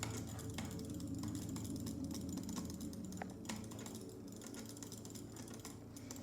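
Rapid butterfly clicking on a computer mouse during PvP gaming produces fast, faint, clustered clicks over a steady low background hum.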